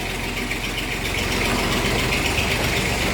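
An old Massey Ferguson diesel tractor, a 35 or 245, runs steadily, hauling dung from the farm. Its low engine chugs loudly and evenly throughout, with a faint mechanical rattle and no voices over it.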